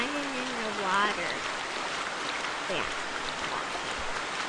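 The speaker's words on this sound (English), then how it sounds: "I'm running in the water." Footsteps splash through water in theHunter: Val-des-Bois hunting game during heavy rain, a continuous watery sloshing over steady rainfall, with a brief vocal sound near the start.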